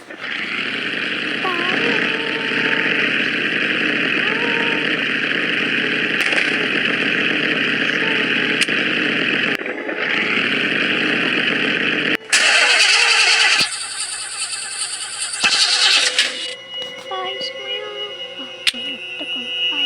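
A car engine in a Roblox horror game cranks and starts, then runs in a steady loud drone that cuts out and restarts with harsh tonal shifts, while a person talks over it.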